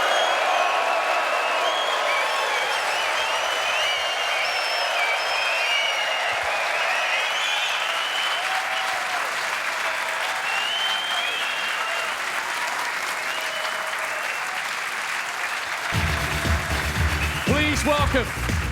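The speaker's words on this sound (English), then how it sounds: "they'll both relish the reception they're about to receive from this sellout Ali Pali crowd" Sustained applause from a sellout crowd at Alexandra Palace greets snooker players walking out for a Masters quarter-final, a dense, steady wall of clapping that runs throughout with some cheering mixed in.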